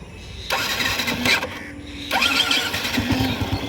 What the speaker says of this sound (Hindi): अब मैं सेल्फ दबाऊंगा तो ये स्टार्ट हो गई